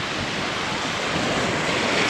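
Sea waves at Laki Beach roar in a continuous, dense wash of surf, steady and loud, with wind blowing across the microphone.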